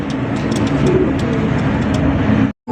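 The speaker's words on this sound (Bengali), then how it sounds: "এখানে হচ্ছে চমৎকার একটা লাল টুকটুকা কালারিং রাজগোল্লা কবুতর দেখতেই পাচ্ছেন" Red Rajgolla pigeons with pitcher-shaped necks coo steadily against a dense, noisy market-like background, then the sound cuts off abruptly near the end.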